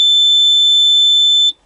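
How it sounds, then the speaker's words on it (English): A single loud, high-pitched electronic key-on warning buzzer in a Yanmar ViO55 excavator holds steady for about a second and a half, then cuts off abruptly into silence. "the actual warning buzzer when you first turn the key on is louder than hell"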